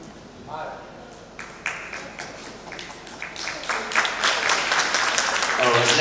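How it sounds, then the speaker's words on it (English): Applause from a seminar audience, sparse claps at first that build into a steady, dense round of clapping filling the room. "No need for applause."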